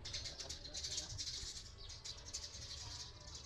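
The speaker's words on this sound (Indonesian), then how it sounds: "banyak burung ini" Faint birds chirp in quick bursts against a low rumbling background from an iFlight Nazgul XL5 FPV drone flying near Jogja, with soft scratchy noises mixed in.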